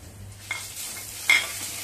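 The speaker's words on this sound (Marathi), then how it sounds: "त्याच्यातच ह्या बारीक चिरून घेतलेल्या मिरच्या घालूया।" Finely chopped green chillies and asafoetida sizzle in hot oil as a seasoning for rava medu vada, giving a faint, thin crackle with a low hum beneath, a soft clack, and a sharper spatter burst near the end.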